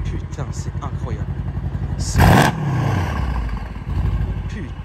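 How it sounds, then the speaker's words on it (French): A turbocharged car engine revs hard in a short burst, loud and close, among rumbling idle and clatter, with people talking around it. "Entends les turbos, écoute les turbos."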